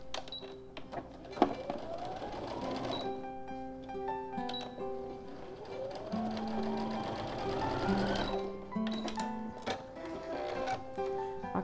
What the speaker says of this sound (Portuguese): Agora eu costuro, ó, aqui da costura para baixo.